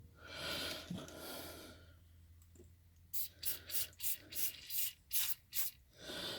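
Several short bursts of aerosol lubricant spray hiss in a quick rhythmic series after a quieter stretch with some breathy rustling, close to the microphone, during a Mustang GT resonator delete H-pipe install.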